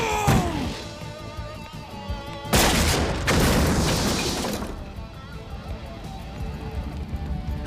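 Street Fighter's Sonic Boom attack goes off as a burst of whooshing, crashing impact noise that surges for a couple of seconds, then fades into lingering rumble, with movie dialogue around it.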